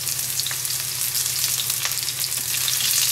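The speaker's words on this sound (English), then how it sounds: "very, very gently add your salted and drained eggplant until these are nicely golden colored" Salted, drained eggplant pieces fry gently in olive oil in a pan, giving a steady close hiss and crackle with small spattering pops throughout.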